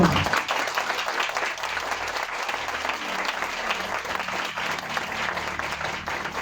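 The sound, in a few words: congregation applauding in church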